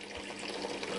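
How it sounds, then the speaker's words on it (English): A liquid mix being poured into a container, a continuous splashing, gurgling pour of moderate loudness, close and steady for the full second. "Now we pour this horrible mix into the container."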